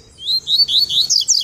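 A caged double-collared seedeater (coleiro) sings a quick run of high, bright chirps and warbles, fairly close and clear, with no voices over it.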